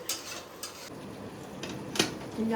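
Chicken korma being stirred in a pan, with faint sizzling under scattered clinks and scrapes of a metal spoon against the pan, quiet and close, with no talk.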